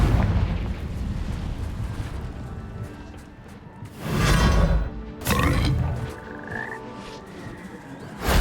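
A Confringo spell explodes in Hogwarts Legacy. Two loud, close blasts land about a second apart, each a sharp broadband burst that decays quickly over a low background of ambient noise.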